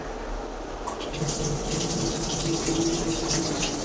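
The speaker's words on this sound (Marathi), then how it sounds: "तर याच्यात मशीनमध्ये पाणी भरायला लावलं आहे" Old washing machine filling with water at home, a steady close gushing flow like a running tap that swells after the first second and continues evenly, with a faint tone underneath.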